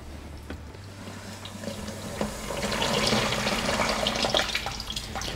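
Water drains through the bottom ball valve of a KLS sand trap on a boat engine's cooling system. It starts as a faint trickle and builds into a steady, louder splashing flow.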